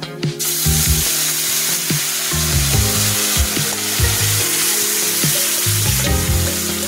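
Mashkalai lentil dal hits hot oil with a loud, continuous sizzle and crackle at close range, and a tonal background hum runs underneath.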